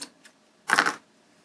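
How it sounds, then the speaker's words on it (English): Crochet yarn snipped with scissors after finishing a Flower of Life piece, a brief crisp cutting burst near and clear, preceded by two faint ticks, with quiet around it. "I'm going to cut the yarn."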